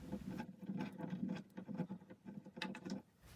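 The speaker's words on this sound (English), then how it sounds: "I'm just using a small screwdriver, unscrewing the screws so that I can remove the shelf." A small screwdriver turns out shelf screws in a closet, giving faint, close, rapid scratchy ticking and clicking in an irregular run of small strokes, with no voices.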